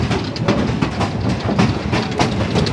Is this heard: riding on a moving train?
yes